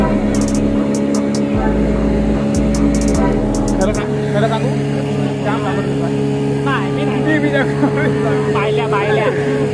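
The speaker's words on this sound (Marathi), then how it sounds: "असं काय बोटीचं इंजिन चालतंय" Motorboat engine running at sea off Malvan, a steady close hum and drone throughout with people talking over it.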